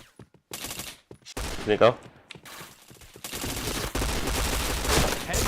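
Rapid bursts of gunfire in a shooter video game, crackling volleys building into sustained fire, with a person speaking over the shots.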